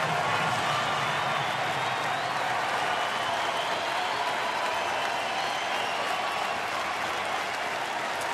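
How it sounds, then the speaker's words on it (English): A baseball stadium crowd at a Cardinals–Brewers game with the bases loaded keeps up sustained applause and cheering, a dense, even wash of clapping and voices filling the whole stretch. "This crowd is ready to roar here."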